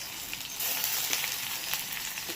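Chopped onion and shrimp hit hot oil with black cumin seed in a pan, breaking into a loud, steady sizzle that holds close and continuous.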